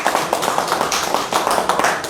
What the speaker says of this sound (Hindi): जोरदार तालियों से स्वागत करें, वेलकम करें